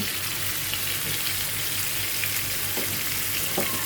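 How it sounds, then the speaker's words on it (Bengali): Fish frying in hot oil in a pan, a constant bright sizzle with small crackles and spits throughout, close and steady, no talking. "এখানে যে আমার মাছটা ভাজা হয়ে গিয়েছে"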